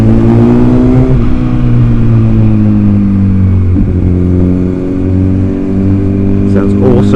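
A Honda CBR1000RR's engine pulls hard under acceleration, a loud, close, continuous drone whose pitch climbs steadily then dips briefly at a shift before rising again, with wind rushing over it throughout.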